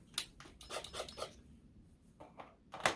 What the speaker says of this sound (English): you take the tap, and you're going to tap it.